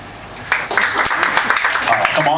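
At a stand-up comedy show, the crowd breaks into applause after a quiet moment: a sharp burst of clapping that keeps going, mixed with voices and cheers from the audience.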